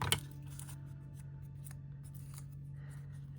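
Scissors snip paper while trimming a paper bow, one crisp close cut at the start followed by faint rustles over a steady low hum, with no talk.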